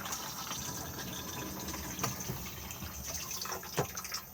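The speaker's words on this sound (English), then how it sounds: "We then have push to flush just here." A motorhome cassette toilet flushes with a steady rush of water and pump-like gushing lasting several seconds, close and continuous, with a few small clunks near the end.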